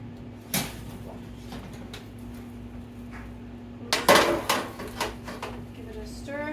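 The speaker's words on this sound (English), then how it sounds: "give it a stir" Spoon scraping and clinking against a pot as food is stirred, a few clustered knocks and scrapes near the end over a steady low hum, with faint kitchen clatter earlier.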